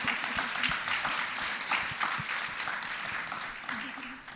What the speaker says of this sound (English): Could we have a round of applause right before we go to questions?